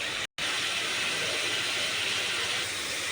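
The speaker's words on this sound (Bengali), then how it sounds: "ডিমের মশলাগুলো কষিয়ে নিচ্ছি এখানে।" Egg curry spice paste sizzling and frying in a pan, a steady, dense broadband hiss that fills the whole stretch after a brief gap near the start, with no talking.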